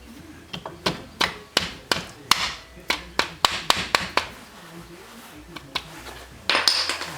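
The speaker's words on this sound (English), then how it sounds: "give her a little tap with the hammer to get her in that last little bit of the way" A hammer taps a rear brake component into its seat on a 2014 Ford Fusion, a series of sharp metallic knocks in uneven bursts, close and fairly loud, with clatter from the workshop around them.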